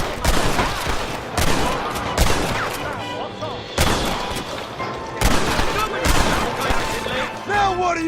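Gunfire in the video game Red Dead Redemption, with loud volleys of shots and several heavy reports in a chaotic firefight while voices call out.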